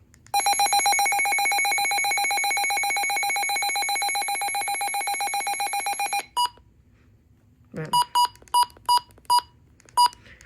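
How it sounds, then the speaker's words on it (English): A weather radio's alert test sounds a loud, steady high electronic tone for about six seconds. After a short pause comes a quick burst of noise, then a run of several short button beeps, all close and with no talk. "This is the alert test."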